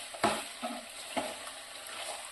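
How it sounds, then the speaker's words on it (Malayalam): Pork pepper fry being stirred in a pan over a low flame, with a few soft scraping strokes and a gentle sizzle that stay quiet and close. "നമ്മൾക്കിനി ഇത് കുറച്ച് നേരം നമ്മളിങ്ങനെ ഇളക്കി കൊടുക്കണം, അടി പിടിക്കാതെ"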